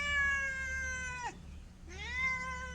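A cat meows loudly twice in long, drawn-out calls separated by a short pause, close by and clear over a low background hum.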